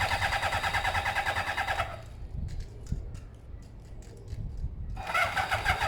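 Kawasaki ZZR600 motorcycle with chokes on, a non-runner, cranking over on its starter without catching, whirring loud for two seconds, pausing briefly, then cranking again near the end.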